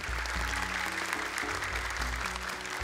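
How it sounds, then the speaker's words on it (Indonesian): Studio audience applause on an Indonesian Quran memorization television competition, a brief, dense burst of clapping over low background music. "Tepuk tangan dong untuk Naufal."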